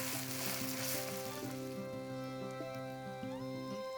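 Ginger, garlic and green chilies fry in a pan for a chicken salna, giving a steady, close sizzle with a tonal background hum throughout, no talking.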